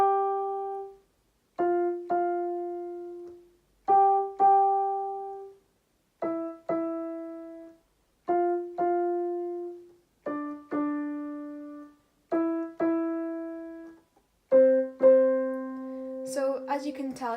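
Piano playing the Riverdale theme melody in octaves, slow separated notes and pairs that each ring and decay, clear and close, with a short burst of noise at the end.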